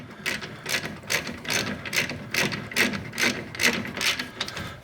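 A ratchet wrench snugs brake rotor bolts on a car, with about ten loud, close, rhythmic clicking bursts in an even back-and-forth cadence and no talking.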